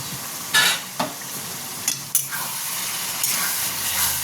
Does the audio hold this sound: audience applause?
no